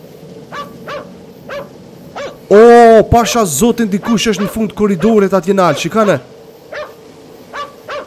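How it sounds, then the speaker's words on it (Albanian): Intermittent dog barks, spaced and moderately loud, come before and after a stretch of loud, excited speech that covers the middle of the clip. "Oshte le qeni?"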